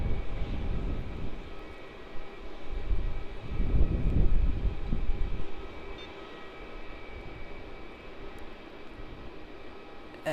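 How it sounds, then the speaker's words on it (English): Qantas Boeing 737-800 landing on runway 16 at Melbourne Airport, a distant jet engine roar that swells midway and then settles into a steady rumble, heard from afar without talk. "And there it is, touching down nicely on runway 16."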